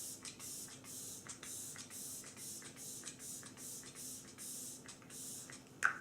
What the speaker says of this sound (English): I think I'm gonna give my face a quick spray